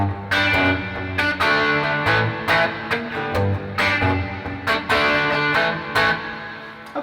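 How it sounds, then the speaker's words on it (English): A strummed twelve-string guitar with a bright, ringing, doubled tone, chords struck in a steady rhythm and washing into a spacious reverb tail. "it's got a lot of reverb on there"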